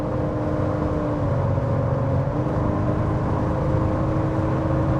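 Interior drone of a Porsche cruising at 70 mph on level ground, a steady engine and road hum with a slight shift in tone as the gearbox downshifts.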